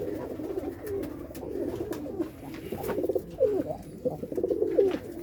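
Pigeons coo softly and repeatedly in a loft in Faisalabad, low throaty calls overlapping one another at moderate distance, with faint rustling and no speech.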